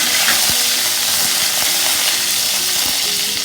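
Dried red chillies frying with urad dal in hot oil in a pan for beetroot chutney, a steady close sizzle with occasional stirring scrapes and no voices.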